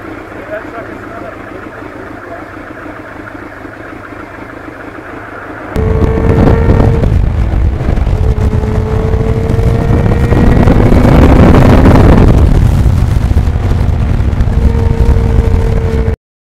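A 1989 Kawasaki GPX750R motorcycle underway on the road: a steady engine drone and rushing wind roar swell in abruptly partway through, with pitch shifting as it rides on, after a quieter stretch.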